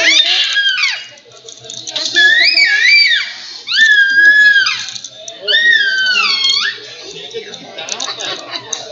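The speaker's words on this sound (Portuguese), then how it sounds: "Chega de gritar, vai ter um monte de grito no meu vídeo, provavelmente." Children scream in high, wavering bursts at home, several loud rising and falling cries with talking and chatter between them.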